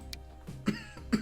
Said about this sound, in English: There's the cough I was afraid of doing.